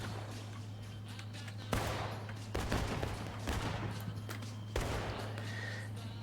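Musket volleys crack out in a Civil War battle video game, several loud scattered shots and ragged bursts over a steady low hum of battlefield background.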